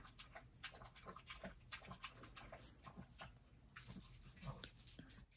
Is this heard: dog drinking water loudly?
yes